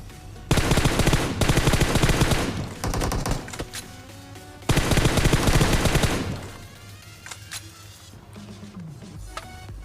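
Rapid gunfire and grenade blasts in the battle royale game PUBG come in two long, loud, dense bursts, then trail off into scattered shots and quieter game sounds.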